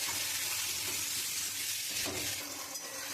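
Potatoes frying with spices and green chillies in a pan, a steady close sizzle and hiss lasting a few seconds, with a faint stir midway.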